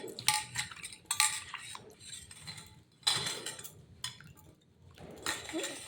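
Mashed elephant apple being washed by hand in a bowl of water, giving bursts of splashing and sloshing with light clinks against the bowl, repeated several times with short quiet gaps between.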